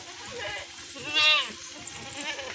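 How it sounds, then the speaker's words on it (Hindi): Goats on a farm bleat in quick wavering calls, one louder cry rising in the middle, with fainter bleats around it and a bit of background chatter. "और ये बकरी भी देखे और ये बच्चे भी देखे"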